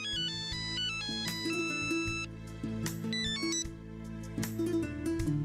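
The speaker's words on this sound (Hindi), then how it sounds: "अभिजीत का फोन" A mobile phone ringtone plays a bright, repeating electronic melody, loud and close, sounding continuously for several seconds with no talking over it.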